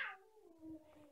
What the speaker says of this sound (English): And there's a cat fight behind me.